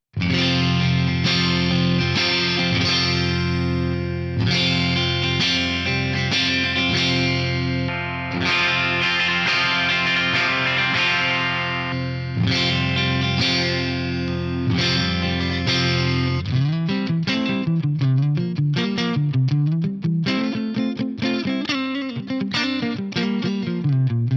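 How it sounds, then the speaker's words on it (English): A PRS SE Mark Holcomb SVN 7-string electric guitar on its neck pickup split plays sustained chords with a warm, slightly thin tone and effects, then shifts to a busier picked riff near the end. "So let's hear the neck pickup split."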